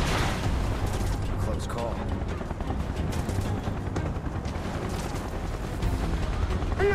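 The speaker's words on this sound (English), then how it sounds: "Open fire! Shoot to kill!" Gunfire in the video game Final Fantasy 7 Remake, a continuous dense clatter of shots and explosive rumble across the whole span, with a voice talking over the action.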